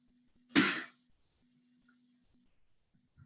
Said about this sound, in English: I just take a deep breath in and I cough